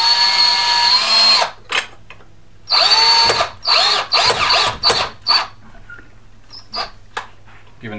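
A power drill drives a 2-inch wood screw into a pre-drilled wall hole while a blackout roller blind is fitted in a window recess, heard as a long whirring run, a pause, then several short bursts, close and loud.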